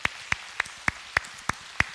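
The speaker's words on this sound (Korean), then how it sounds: "우리 하나님께 영광의 박수 올리겠습니다." Worshippers at a Korean Sunday morning church service clap in unison, seven sharp, evenly spaced claps at a steady beat of roughly three per second, with near silence between them.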